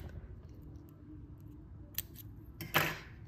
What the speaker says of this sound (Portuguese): vou cortar esse fio